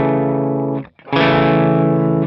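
A REVV D20 guitar amp, a 6V6-style tube head, plays two sustained overdriven chords with a brief gap between them, thick and loud.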